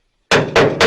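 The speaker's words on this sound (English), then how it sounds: "this is a carpenter hammer, but you use what you got" A carpenter hammer strikes a GMC truck hood during a hood repair, landing two sharp, loud metallic blows close up after a moment of silence.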